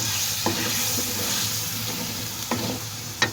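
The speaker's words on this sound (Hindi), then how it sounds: "साथ साथ ही गोश्त को भूनती जा रही हूँ" Goat or chicken meat frying in a pan with green chili paste and masala while being stirred, a steady close sizzle broken by a few sharp scrapes of the spoon against the pan.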